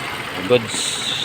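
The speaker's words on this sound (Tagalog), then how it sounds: "Gumagana yung compressor, gumagana rin yung fan." A Suzuki Vitara's air-conditioning compressor and condenser fan run with a steady, close mechanical hum and whir, while someone speaks briefly over it.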